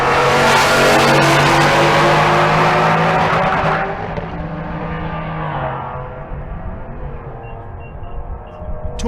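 A stick-shift ZR1 Corvette launches in a drag race at Bandimere, a loud, close engine roar climbing through the revs before fading away down the strip as the car pulls off.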